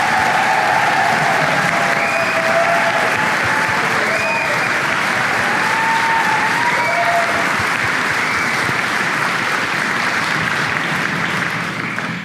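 Audience at a flute orchestra concert in a church breaking into loud, sustained applause that fills the room at an even level the whole time, with a few voices faintly audible in the crowd.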